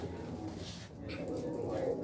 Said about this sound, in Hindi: ये टाली वाला कबूतर है जी सामने नजर आ रहा है आपको